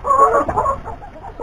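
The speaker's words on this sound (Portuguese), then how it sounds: "Aqui dentro tem bastante galinha ali dentro ainda." Chickens cluck close by on a small farm, a busy run of short hen calls and murmurs that fades slightly toward the end, with no talking.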